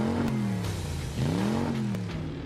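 A car engine revs in a sound effect for a radio advertisement promoting a pre-owned vehicle sale, with two rising and falling sweeps at moderate loudness and no voices.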